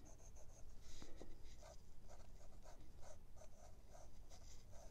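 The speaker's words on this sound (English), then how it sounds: "I'm just going to sketch in" Pencil sketching a white wine bottle on paper, a soft, steady scratching of graphite in short repeated strokes, close and quiet, with no one talking.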